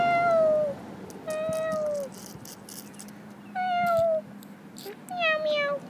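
A voice imitates a cat, giving four drawn-out meows spaced across the stretch, each clear and close, with faint background noise between them.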